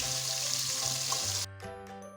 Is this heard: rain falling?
no